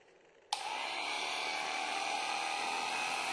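A vintage SEB electric toothbrush plugged into a French socket whirs into life abruptly, a steady, fairly loud buzzing motor hum that holds constant after the switch-on.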